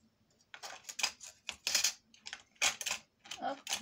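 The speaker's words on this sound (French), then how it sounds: "On va marquer délicatement hein, parce que c'est une cartonnette qui est fine" A small stylus scores fold lines into thin cardboard in a series of short, crisp scraping strokes with brief pauses between them, close and fairly quiet.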